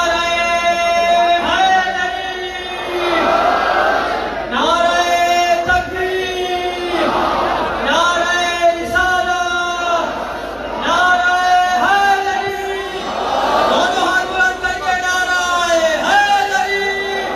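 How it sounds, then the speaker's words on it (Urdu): At a Muharram majlis in Khairpur, Sindh, a large crowd chants a religious slogan in loud, rhythmic bursts, repeated calls rising and falling in waves, with strong tonal voices echoing across the gathering. "نعرے کا جواب دیتے ہوئے نعرہ"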